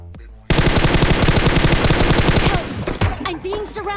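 Rapid automatic gunfire from a PUBG match erupts suddenly and holds as a loud, dense burst of shots for about two seconds, then breaks into scattered shots and game effects.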